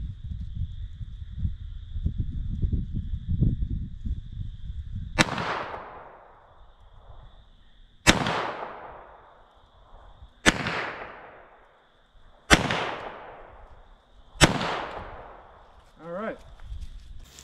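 Five sharp, loud gunshots from a .38 Short Colt revolver fired at a target, spaced a couple of seconds apart, each with a ringing decay, following a stretch of low rumbling handling noise.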